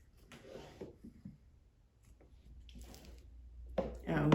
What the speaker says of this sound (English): this is normally the way I cut my soap